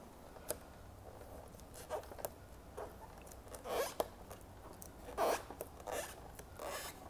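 Vinyl wrap being peeled by hand off a car's side-view mirror, a faint, close series of short crackling rips and soft tearing bursts, with a couple of louder peels near the middle and end.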